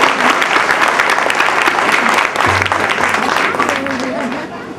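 Audience at a family gathering of a Rajput trust in Gorakhpur breaking into loud, sustained applause, dense clapping throughout with voices mixed in.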